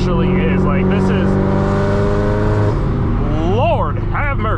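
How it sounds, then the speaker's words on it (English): Straight-piped Subaru STI engine roaring loud and close from inside the car with the windows open, a droning exhaust note with a rising rev swell near the end, someone talking over it. "this car is extremely loud"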